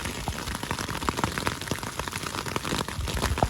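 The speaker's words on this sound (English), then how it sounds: "The rain has picked up a bit, and there's a lot of thunder out there right now." Steady rain patters densely on surfaces along the Pacific Crest Trail, with scattered close drops ticking against a constant wash of rainfall.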